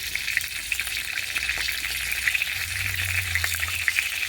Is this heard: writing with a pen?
no